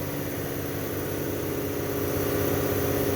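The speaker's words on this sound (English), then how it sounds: "Tuned exhaust." A 2022 Toyota Tundra 4x4 with the twin-turbo V6 and a tuned exhaust, idling in a low, steady rumble held close and unbroken, with no talk over it.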